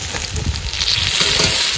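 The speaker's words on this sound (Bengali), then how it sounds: "মশলা ভাজা হয়ে গেছে, এবার মাংস দিয়ে দেবো" Meat hits hot oil and fried spices (ginger, garlic, salt, turmeric, ground coriander and cumin) in a pan, giving a loud, steady close-up sizzle with crackling that holds strong throughout.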